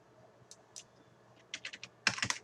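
Keys on a computer keyboard tapped while entering dimensions in Autodesk Advance Steel CAD software: a couple of isolated clicks, then a quick burst of several keystrokes and a louder closing flurry, close and clear, with no talking.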